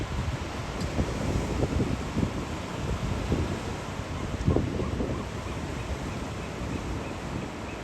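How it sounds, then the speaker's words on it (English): Ocean swell surges against rocks and through a rock blowhole, a steady wash of surf and spray with a few stronger bursts, heard from close by under wind noise on the microphone. "When the swell hits from the right direction, water is forced up through the opening and shoots into the air"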